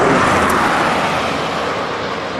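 Steady roadway traffic noise from cars passing near a bus stop by a field, a loud continuous broadband wash that holds at nearly constant level with no voices.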